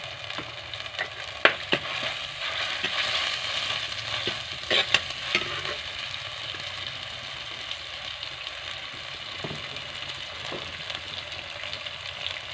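Carrots sautéing in a pan for prawn coconut rice, a soft steady sizzle with scattered clicks and scrapes of stirring, fairly quiet and close.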